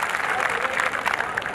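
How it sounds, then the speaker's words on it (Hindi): Crowd at a Hindi comic poetry gathering giving loud, enthusiastic applause, a dense rolling roar of clapping that stays strong and close for the whole stretch. "जब तक सारे मिलके एक बार जोरदार ताली नहीं बजाते।"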